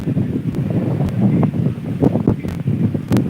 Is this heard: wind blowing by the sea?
yes